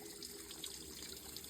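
Small creek running past a campsite on a hot summer hike, a steady, faint trickle and babble of water with no voices.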